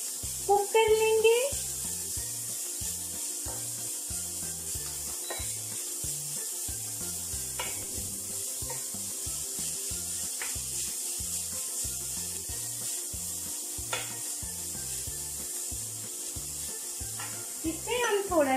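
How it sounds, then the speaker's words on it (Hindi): Beetroot cooking in a pan, with a steady hiss and a scraping rub of stirring that continue throughout at close range, a few sharper clinks at the start and end. "बीटरूट डालने के बाद इसको हम अच्छे से कुक कर लेंगे"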